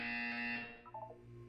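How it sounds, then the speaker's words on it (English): A buzzer in the video game Portal 2 sounds loud and harsh with a steady tone for about half a second, then cuts off into quieter beeping electronic tones and room hum. "You will hear a buzzer."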